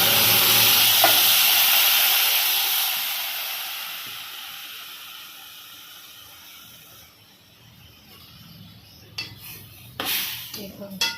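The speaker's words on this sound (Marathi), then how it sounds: "हे जे मसाले आहे ना ते तेलामध्ये आपण टाकणार आहोत।" Spices hitting hot oil in a kadhai while cooking chole with potatoes: a loud, bright sizzle that slowly fades and settles, followed near the end by several clanks of a spoon stirring against the metal pan.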